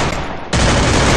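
Rapid automatic gunfire from a Free Fire / PUBG cartoon video game bursts in loud and dense after a brief softer lead-in, sustaining as a continuous rattling volley.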